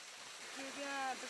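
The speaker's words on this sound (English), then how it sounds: "This in particular is a mani water wheel." Water running past a Tibetan mani water wheel in a mountain village, a soft steady trickling wash under a brief voice.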